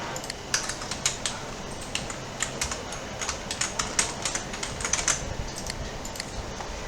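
Rapid typing on a computer keyboard while CSS code is entered, a steady run of light clicking keystrokes heard close up with no talking.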